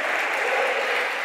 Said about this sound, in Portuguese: Alguém dá um aplauso a Jesus bem forte